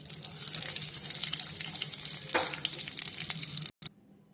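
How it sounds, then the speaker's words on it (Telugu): Cashews fry in hot ghee in a pan with a steady, close crackling sizzle that stops abruptly near the end. "ఇందులో జీడిపప్పు వేసి వేయిస్తాను"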